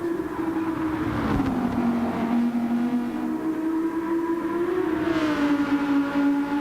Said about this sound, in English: I don't remember this car sounding like it. It has that it has that hollowy-ish sound to it